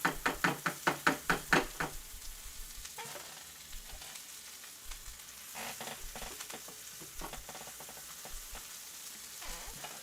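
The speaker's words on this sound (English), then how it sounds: "I'm gonna throw this on the griddle now." Food sizzles on a griddle, opening with a rapid series of sharp knocks or taps before settling into a low crackling fry with scattered scrapes and clatters, close and moderately loud, no talking.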